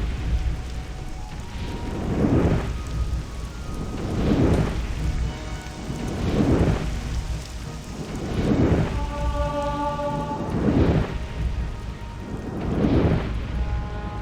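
Rain and rolling thunder in the video game Morrowind: steady rain hiss throughout, with repeated swelling rumbles of thunder about every two seconds, loud and close, and no voices.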